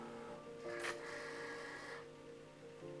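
A paper cutting machine loads a sheet of cardstock with a quiet mechanical whir and a short rising motor sweep, faint and close, without speech.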